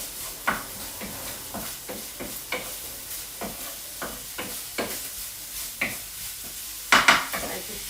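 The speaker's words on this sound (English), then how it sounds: "I just stir around the bacon." Bacon sizzles in a frying pan while a utensil stirs it around, giving a steady frying hiss broken by repeated scraping knocks against the pan and a louder clatter near the end.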